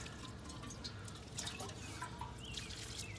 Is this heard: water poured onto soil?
yes